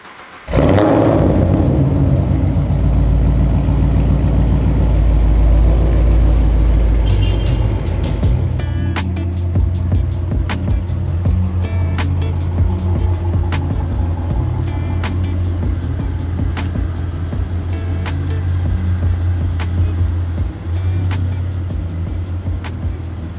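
A supercharged Chevrolet Camaro SS V8 pulls away after refuelling, a loud deep engine roar building as it revs and accelerates, then settling into a steady close drone with ticking and clicking under it, no talk.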